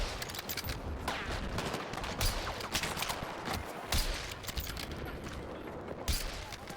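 Battlefield 6 gameplay with dense, steady bursts of gunfire: rapid overlapping shots and a fusillade of cracks that continue throughout under faint background noise.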